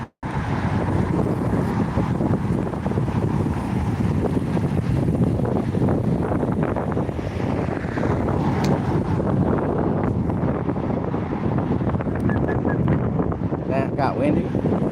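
Strong wind buffets the microphone outdoors, a loud continuous roaring rumble with gusty swells filling the whole stretch, with voices faintly mixed underneath.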